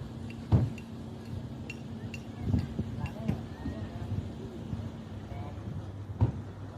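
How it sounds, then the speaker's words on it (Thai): A horse-drawn carriage moves through a parking area at night in Jeju, South Korea, its hooves giving sparse, soft clip-clops amid a low background murmur and occasional clinks. "รถม้าเขาวิ่งกลับมาเองแล้วครับผม"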